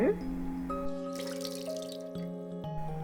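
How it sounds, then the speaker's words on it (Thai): Water rushing at a waterfall in the video game Undertale, a steady running wash with drips layered under sustained musical tones, moderately loud throughout. "งั้นเราไปดูน้ำตกกับแซงกันดีกว่านะครับ"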